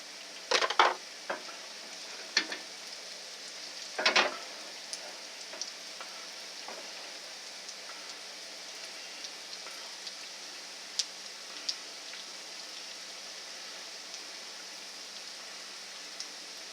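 German potato pancakes frying in a pan give off a steady close sizzle and crackle, with a few sharper spatters and pops near the start and scattered small crackles afterward, no voices.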